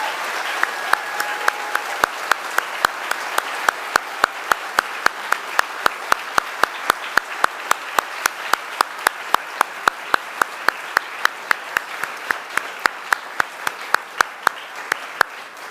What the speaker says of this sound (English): Please join me again in applauding these fine recipients of honorary degrees.